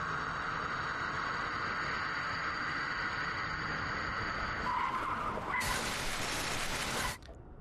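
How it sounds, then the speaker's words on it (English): A car skidding and crashing in a survival horror video game set in a Midwestern forest, a long steady tire squeal that ends in a loud crash with breaking glass before cutting off abruptly. "Did we just crash our car?"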